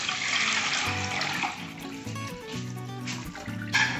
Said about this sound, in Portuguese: vamos botar água na panela.